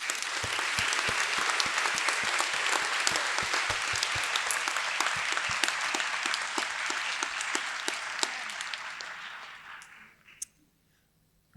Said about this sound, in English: I would ask you now, by a round of applause, to show your appreciation of them.